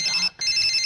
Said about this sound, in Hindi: मोबाइल का घंटी बज रहा है।